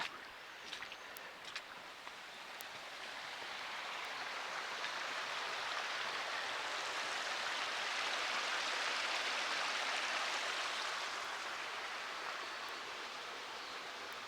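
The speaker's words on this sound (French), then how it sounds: "on entend une petite cascade là sur le côté" A small waterfall beside a stream in the countryside near Thynes, a steady soft rush of falling water that swells gradually and holds as a continuous hiss, faint and without voices.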